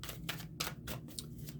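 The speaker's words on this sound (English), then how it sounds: "let's go ahead and get some shuffles" Tarot cards being shuffled by hand, a run of crisp riffling bursts roughly every third of a second, fairly close and clear with no voices over them.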